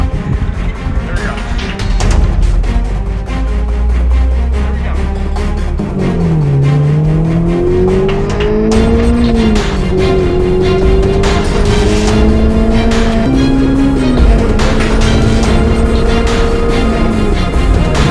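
A car lapping a race track, its engine loud and close, revving and shifting pitch as it accelerates through the corners with a steady drone, no voices.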